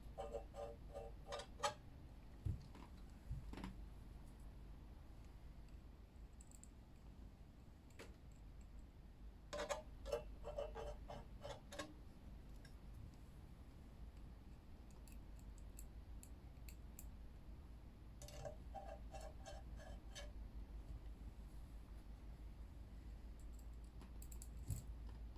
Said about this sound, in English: press a few keys, just show everything is working okay on this guy.